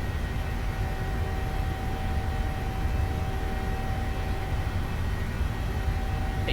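Airliner engines heard from inside the cabin or cockpit during the takeoff roll, a loud, steady broadband roar with a faint whine running throughout, no voices over it.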